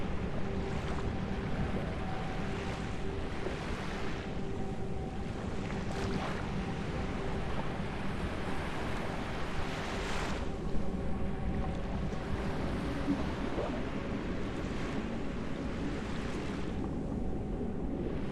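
Steady water and wave ambience in the video game Hiraeth rolls on as a soft, continuous wash with faint wind, with no one speaking.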